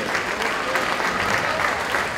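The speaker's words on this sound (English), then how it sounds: "can we please have a round of applause for Our Lady of the Evening" Steady applause from an audience at a school signature event fills the hall, continuous and fairly even throughout with no talk over it.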